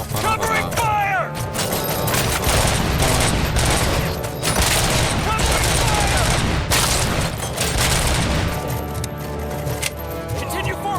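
Rapid gunfire and mechanical clatter in RoboCop: Rogue City crackle in dense bursts over a steady rumble, close and loud, with voices shouting over the shooting.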